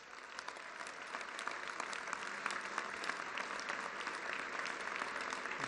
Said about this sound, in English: And a big round of applause for our POWs and MIA.